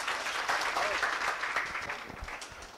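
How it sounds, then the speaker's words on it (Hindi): Audience clapping at a mushaira (Urdu poetry recital) in Sakinaka, fairly steady and moderately loud, thinning toward the end with a few scattered claps. "उबैद आजम आजमी साहब अपना कलाम सुनाए तो एक मतलब तालियों से इस्तकबाल कीजिए।"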